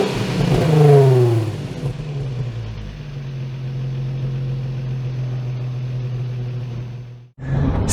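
A 2006 Nissan 350Z Roadster engine revs up loudly while driving, its pitch climbing steeply then settling into a steady droning cruise before a sudden brief cut near the end.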